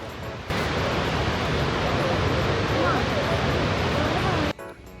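Niagara Falls at night gives off a loud, steady roar of rushing water that starts abruptly and stops just as suddenly near the end.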